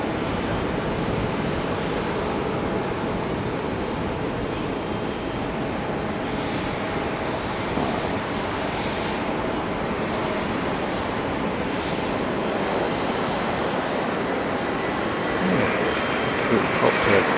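A jet touching down at Haneda airport gives off a steady, broad roar that rumbles on without letup, with faint talk underneath.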